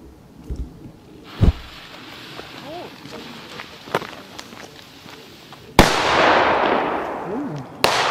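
An Explode-brand double-bang firecracker goes off outdoors. Several sharp cracks are followed by one big, loud blast with a long, noisy decay, then a final pop, while voices chatter in the background.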